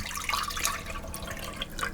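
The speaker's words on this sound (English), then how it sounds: "the next thing to do is to pour the milk that you have remaining" Milk poured into a saucepan, a liquid splashing and trickling sound that is continuous and close, with no talk over it.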